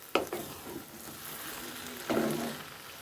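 Taro stolons cooked with a hilsa fish head, stirred in a pan, give two short bursts of spoon-scraping and sizzling about two seconds apart over a steady low frying hiss, close by with no talk.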